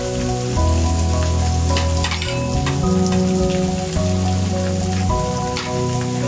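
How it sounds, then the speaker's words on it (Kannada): Chopped capsicum fries in hot oil with a continuous crackling hiss like rain, heard steadily beneath louder background music. "ಇವಾಗ ಇದನ್ನ ಎಣ್ಣೆಲೆ ಚೆನ್ನಾಗಿ ಫ್ರೈ ಮಾಡಬೇಕು"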